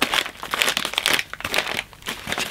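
Kraft paper and bubble wrap crinkle continuously during unboxing of a Jeffree Star mystery box bought on eBay, a dense close rustling with no talk over it.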